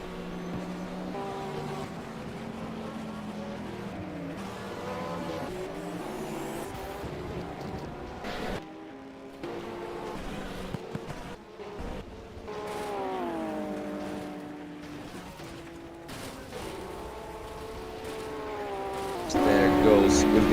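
LMP2 prototype race cars in a Le Mans Series racing game sweep past one after another, their engines rising and falling in pitch under continuous commentary.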